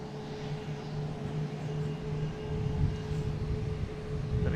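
A Cape Air plane departs Boston Logan bound for Nantucket, giving a steady, moderately loud engine drone with a low tonal hum that builds slightly toward the end, with no voices over it.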